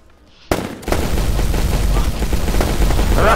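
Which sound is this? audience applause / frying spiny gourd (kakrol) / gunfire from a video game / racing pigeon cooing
gunfire from a video game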